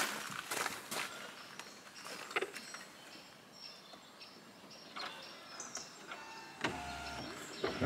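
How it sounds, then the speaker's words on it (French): A car's electric power window motors down a short way and then back up, two faint whirring runs separated by clicks and small handling noises, with quiet conversation around it. "tu vas baisser un peu la vitre"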